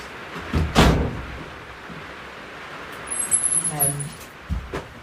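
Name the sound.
cabin door being shut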